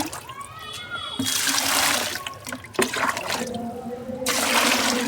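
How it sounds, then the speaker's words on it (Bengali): Two litres of water are poured and stirred into a homemade liquid plant feed for a rooftop garden, with close splashing, trickling and sloshing in bursts while someone talks over it. "এই দুই লিটার জল আমি এখানে মিশিয়ে দিলাম"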